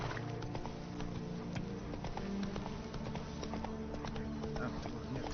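Roach, a horse in The Witcher 3: Blood and Wine, trots with steady, rhythmic clip-clopping hooves under a constant ambient bed of game music and surroundings.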